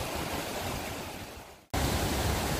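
A river flows outdoors under clear skies with a light breeze, a loud, steady broadband rush that drops away briefly then returns at full strength, with no voices.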